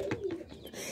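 Pigeons cooing close by, a soft throaty coo rising and falling in a brief phrase with no talk over it.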